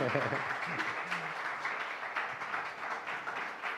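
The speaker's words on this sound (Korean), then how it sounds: "다시 한번 큰 박수 부탁드리겠습니다." Audience applause at a library opening thanksgiving service at a school, a steady broadband patter of many hands filling the moment, fairly faint and continuous with a brief voice near the start.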